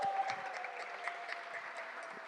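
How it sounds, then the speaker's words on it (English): Audience applause for the organisers of a sustainability activation event, a steady dense clapping from a crowd that fills the whole short stretch at a moderate level. "Can we have a round of applause for them, please?"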